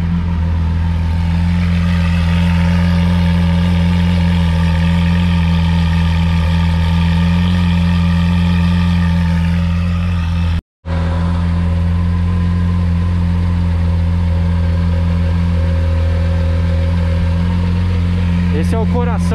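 A Lamborghini Aventador S engine idles steadily with a deep, loud rumble and harmonic drone, briefly cutting out for a moment before resuming; voices talk faintly underneath.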